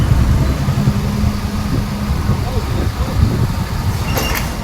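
Heavy road traffic jam of older vehicles at the Narayangaon sub-market and Khodad road: a loud, close, steady rumble of idling and crawling engines, with people talking over it.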